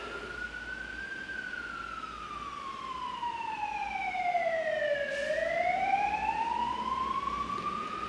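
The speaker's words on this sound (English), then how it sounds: "I think that was a siren to signal the end of the game." A siren signalling the end of a bridge match wails steadily over the whole stretch, its pitch sliding slowly down and then rising again, loud and continuous with no talk.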